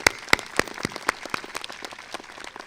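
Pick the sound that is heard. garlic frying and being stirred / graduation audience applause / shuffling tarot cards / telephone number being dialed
graduation audience applause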